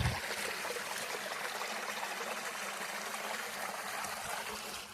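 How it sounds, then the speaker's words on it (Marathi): Water flowing out of a mountain stream among hills, a faint, steady trickling rush heard without a break and with no talking. "इथून पाणी निघतं इथं, बघू शकता तुम्ही"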